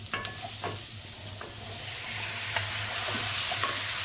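Beef going back into a pan of sautéed onions and carrots for a red-wine stew, a steady, close sizzle with a low hum underneath and occasional light scrapes of stirring.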